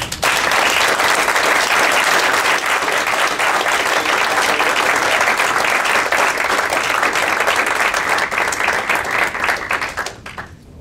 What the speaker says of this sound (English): Let's give Josh a big round of applause